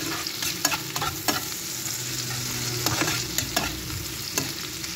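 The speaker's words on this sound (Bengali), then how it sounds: "তাতে একটু নরম হওয়া অবধি আমি ভেজে নিব।" Chopped green chillies fry and sizzle in a pan, with a continuous hiss broken by the scrape and clack of a spoon stirring, close and loud, with no voices.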